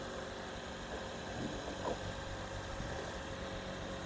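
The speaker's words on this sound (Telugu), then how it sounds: "ఇంజన్ బీటింగ్ కూడా చూసుకోండి." A used CNG/petrol tourist taxi idles with its engine running, a steady, even hum with faint vibration, heard alone at close range.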